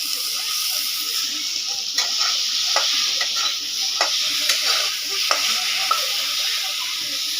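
Potatoes sizzle steadily in a pan over a high flame while a utensil stirs them, giving a constant hiss broken by regular clinks and scrapes against the metal.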